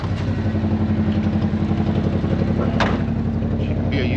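A 1981 squarebody farm truck's engine runs steadily at idle with a low, even rumble and light mechanical clatter, close and continuous throughout.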